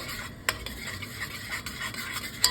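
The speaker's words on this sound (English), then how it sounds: "And we stir it all together." A spoon stirs buffalo wing sauce with coarse ground black pepper in a bowl, making soft scraping and rubbing strokes, with a couple of sharp clicks of the utensil against the bowl.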